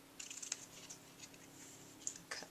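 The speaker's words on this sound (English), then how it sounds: "I'm just going to grab my ribbon scissors and go ahead and cut these edges" Ribbon scissors snip through the edges of a ribbon on a handmade card, making a few quiet, crisp cuts spread over a couple of seconds, close by with no talk.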